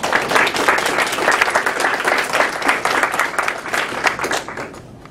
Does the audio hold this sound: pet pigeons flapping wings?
no